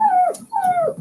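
Dog whimpering in two drawn-out, high-pitched whines with a short gap between them, close to the microphone and heard alone without talk.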